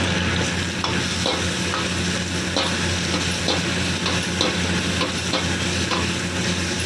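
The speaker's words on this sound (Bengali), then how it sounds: "এবারে দিয়ে দিলাম অনিয়ন, রেডি হলো ক্যাপসিকাম।" Onion and capsicum stir-fry in a pan with a continuous sizzle. Repeated scraping strokes from stirring come at a fairly regular pace, close and fairly loud, with no voices.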